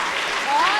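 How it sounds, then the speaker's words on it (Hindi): Audience applause at a Hindi kavi sammelan poetry recital, a steady wash of clapping filling the short moment at an even level, swelling slightly toward the end. "तालियां जरा मिलके बजा दीजिए एक बार"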